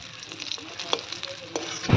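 Fish heads and tails frying in oil, a brief hiss of spattering with a few sharp crackles, close and moderately loud, ending in a louder burst.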